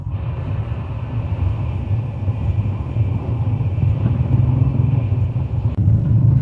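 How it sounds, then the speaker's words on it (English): Dense, heavy city traffic in Ho Chi Minh City forms a loud, continuous low rumble of many engines, steady throughout with no voices. "Heavy traffic here."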